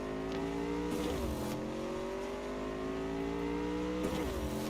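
A car engine racing in the video game Cyberpunk 2077, droning loudly and steadily with rising revs and two gear-shift dips, with no talk.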